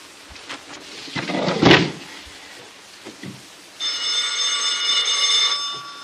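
A telephone rings with a steady electronic tone for about two seconds, following a few soft knocks and rustling in a quiet room.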